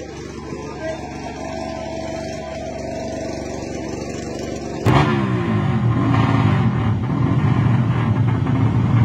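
Rusi motorcycles with open pushrod 65 engines drag racing, Chamba Racing against GWRT Jensan, a steady engine drone that jumps to a louder, harsher roar halfway through as the bikes launch, with a commentator talking over it.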